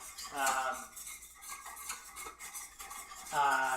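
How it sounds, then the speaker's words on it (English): Whisking in a bowl while making Swedish meatballs, with busy scraping and clinking of a utensil against the bowl, steady and close, with brief voiced sounds at the start and end. "But I'm whisking, okay?"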